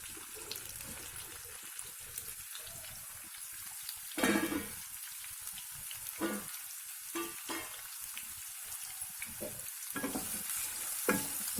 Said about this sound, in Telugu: కొంచెం బ్రౌన్ కలర్ వచ్చే వరకు బాగా వేగాలి.